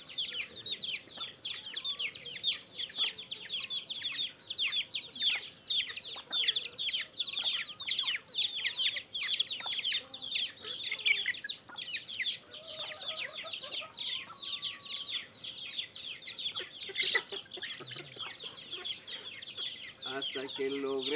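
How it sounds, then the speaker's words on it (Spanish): On a farm, a flock of hens is being fed and clucks continuously in a dense, busy chatter, with occasional louder squawks and peeps. The birds are close and there is no clear talking. "alimentando a las gallinas."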